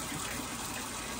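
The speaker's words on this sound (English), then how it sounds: "I'm cleaning out the cat water dish." Tap water runs in a steady, full gush while a cat water dish is cleaned out. The flow is close and constant for the whole moment, with no voices.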